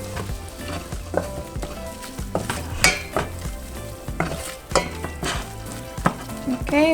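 Flour being cooked into melted butter in a pan for a nacho cheese sauce, with a steady sizzle under repeated stirring scrapes and a few clinks of utensil on pan, close and moderately loud.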